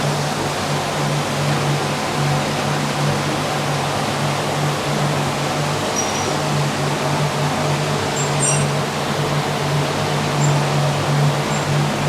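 Primer powder coat is sprayed onto cold brake calipers, a loud continuous hiss of air and powder holding steady from start to end over a low steady hum, close up with no voices.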